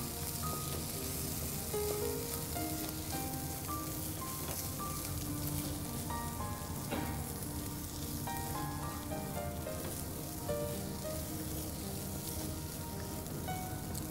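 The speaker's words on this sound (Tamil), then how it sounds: "இப்ப ஷ்ரிம்ப்ஸ் வந்து கொஞ்சம் கொஞ்சமா குக் ஆகுது" Shrimp fry in a pan with a steady, even sizzle that crackles softly and continuously throughout, fairly quiet and with no talking over it.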